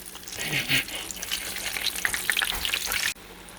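Eggplant slices for eggplant Parmesan sizzle and crackle in hot oil, a dense, close frying hiss with small pops that runs steadily and then cuts off abruptly near the end.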